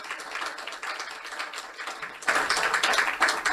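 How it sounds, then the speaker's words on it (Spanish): A church congregation claps for visiting guests, a steady patter of many hands throughout that swells noticeably louder and denser partway through, with faint voices mixed in. "Por favor, pónganse de pie para que todos le demos un fuerte aplauso."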